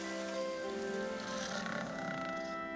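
Steady rain falling on a surface, a dense, continuous patter with a faint hum underneath, no voices.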